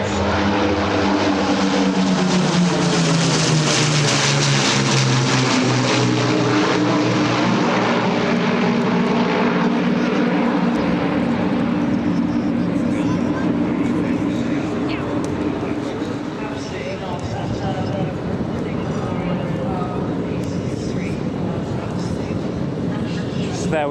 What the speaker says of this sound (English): the Avro Lancaster leader in service with the Battle of Britain Memorial Flight at RAF Coningsby in Lincolnshire